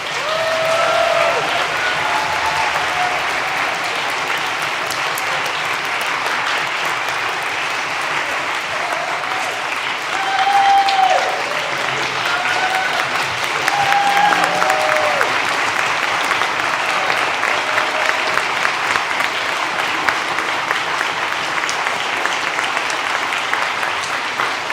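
An audience at a church service gives a sustained round of applause that lasts throughout, dense and steady, swelling slightly midway.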